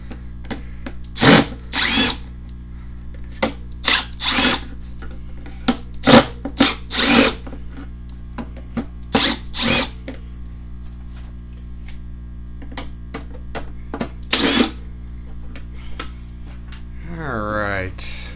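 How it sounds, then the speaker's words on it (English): A power drill spins out screws while tearing down a Ridgid 6 gallon pancake air compressor, a series of short whirring bursts repeated many times over a steady low hum, close up. "we're just going to start pulling apart some screws here and see what's holding what"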